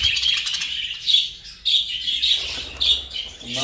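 Young jumbo budgerigar chicks in a breeding room chirp in quick bursts of high, thin tweets, close and fairly loud, with brief pauses between clusters.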